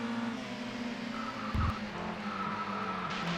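Lotus 340R in the ToCA World Touring Cars racing game loses grip and slides, a steady engine drone with a brief louder tire skid burst partway through.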